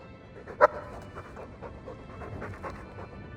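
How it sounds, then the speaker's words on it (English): A dog in the video game Dragon Age 2 pants softly in quick, faint breaths, with a brief yip-like sound near the start standing out over a quiet background. "He's a sweet dog"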